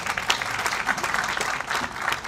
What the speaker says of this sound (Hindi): आज जो तालियां बजा रहे हैं आप अपने लिए बजा रहे हैं